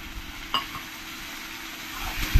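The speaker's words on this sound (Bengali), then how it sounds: "দুধ দিয়ে ভালো করে আমি নাড়িয়ে নেব।" Fried mung dal with milk just added is stirred in a pan, giving a steady close sizzle with soft scraping strokes of the spoon throughout, and a couple of louder knocks near the end.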